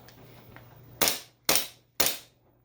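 Three sharp shots from an airsoft pistol firing BBs, evenly spaced about half a second apart, loud and close, with a quiet background hum between them.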